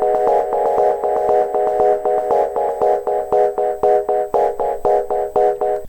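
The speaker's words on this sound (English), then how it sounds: "you can start to hear distinct echoes, which is called delay" A synth or instrument phrase on a track in Ableton Live 11 with a delay effect on a return track, playing a steady rhythmic pulse whose notes trail into distinct repeating echoes, loud and alone with no talk.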